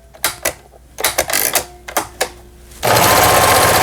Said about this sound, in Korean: 박음질 땀수 정상적으로 박음질 잘 되고 있습니다